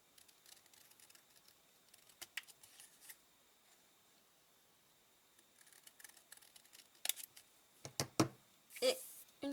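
Quiet room with scattered soft snips and rustles, then a burst of sharper scissor cuts through paper near the end, close by.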